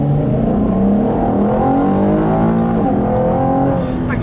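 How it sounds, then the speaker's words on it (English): A 2016 Chevrolet Camaro V6 RS revs its exhaust nearby. The loud engine note climbs and falls in smooth sweeps and holds steady for several seconds. "Listen to that exhaust all day. It sounds so good for a V6."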